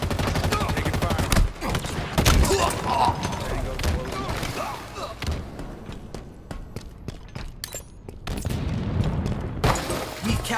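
Gunfire in the video game Halo Infinite crackles in dense, loud bursts of rapid shots with booming impacts and footsteps mixed in, nearly continuous throughout, while game voice announcements are heard over the battle.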